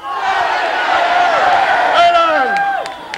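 An outdoor rally crowd at Toronto City Hall shouting back a response in unison, a loud sustained mass of voices swelling and then fading, with scattered whoops near the end.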